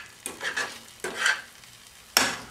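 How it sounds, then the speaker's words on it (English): Scrambled eggs sizzle softly in a pan while a utensil stirs them in three distinct scraping strokes, heard close and fairly quiet. "This is how they cook scrambled eggs at Denny's."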